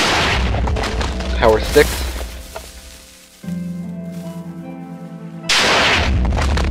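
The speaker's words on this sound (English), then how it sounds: "This is the original cannon. This is the first cannon I have ever made successfully." Minecraft TNT cannon firing in a redstone build, with deep booming blasts and crackling debris at the start, a humming lull with a tonal drone, then another loud burst near the end; a voice speaks briefly.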